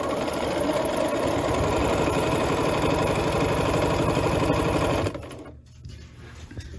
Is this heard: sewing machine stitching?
yes